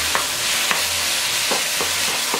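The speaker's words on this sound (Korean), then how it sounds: "이렇게 볶아주셨으면 필라프는 완성이 됐습니다" Pork neck pilaf being stir-fried in a pan with tonkatsu sauce and oyster sauce: a steady close sizzle with a few brief scraping stirs spaced through it.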